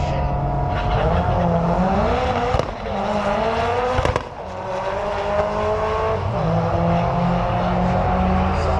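A front-wheel-drive Ford Fiesta drag car launches at Santa Pod Raceway during a Doorslammers event. The engine roars loud and continuous with revving gear changes and crackle from start to finish.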